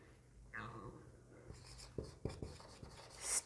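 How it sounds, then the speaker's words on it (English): A hand writes on paper in a class setting, with soft scratching strokes followed by several distinct taps and scrapes, quiet and nearby. "So let's write it."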